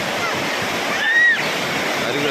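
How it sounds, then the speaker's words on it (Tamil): Water pours heavily down Courtallam Main Falls, a constant broad roar of falling water heard up close, with a brief high whistle-like tone rising above it midway. "அருவியில் செம்மையாக தண்ணி வந்துட்டு இருக்கு"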